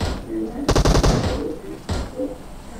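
A rapid burst of machine-gun fire in a video game rattles for about half a second, then a single shorter shot follows a moment later, loud and close.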